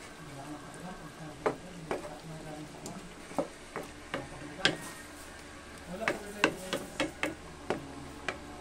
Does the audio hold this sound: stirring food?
yes